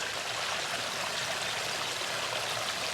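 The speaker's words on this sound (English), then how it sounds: "20-ish foot stream with 3 drops." Steady rushing and splashing of a roughly 20-foot backyard koi pond stream spilling over three small waterfall drops, continuous and fairly close, with no voices.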